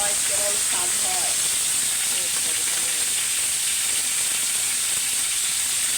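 Gravy is poured into a sizzling roast in a hot pan, producing a loud, steady steaming hiss and crackle that fills the whole stretch, with voices talking faintly underneath.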